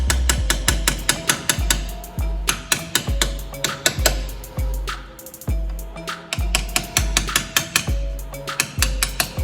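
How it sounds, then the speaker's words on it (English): A hammer strikes a flat punch on a nut during a Land Cruiser front axle disassembly: a rapid, steady series of sharp metal blows, each with a brief metallic ring, close up and loud. "I'm just going to use flat-headed punch and a hammer to get those back"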